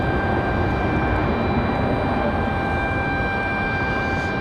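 A Spirit Airlines airliner touches down at Raleigh-Durham International Airport, heard as a steady, loud broadband engine roar with a few sustained high tones running through the whole stretch.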